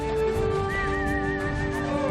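Horse whinnying with a long wavering pitch amid a dense pack of livestock trekking toward winter pasture past the Bayan mountains, the call fairly close and continuous over steady herd noise.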